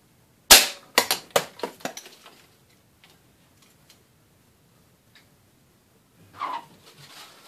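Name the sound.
Benjamin Trail air rifle firing pointed pellet into can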